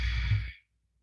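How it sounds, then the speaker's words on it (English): A single nasal exhale during yoga breathing, a soft breathy rush of air lasting about half a second before fading into silence. "It's the sound of your just air coming in your nose"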